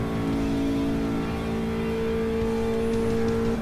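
A Renault 8 Gordini engine revs hard and holds a loud, steady, buzzing drone at high revs close by, climbing slightly in pitch near the end.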